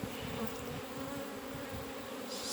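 Honey bees buzz steadily around an opened hive during a demaree split, a close, continuous droning hum that swells slightly toward the end.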